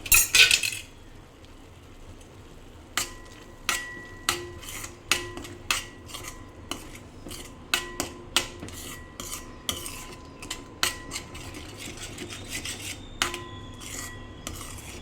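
A spoon stirs fenugreek and dal vegetable in a metal pan, producing a series of sharp metallic clinks and scrapes in an irregular rhythm, close and clear with no talk.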